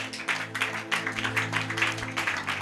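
Congregation at a church Bible teaching applauding together, a steady rhythmic clapping over a sustained low musical hum, fairly close and even in loudness.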